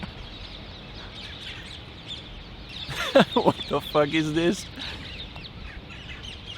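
A chicken clucks beside a pool in a short burst of rapid, choppy calls that rise out of a steady outdoor hiss, with a voice speaking briefly in between.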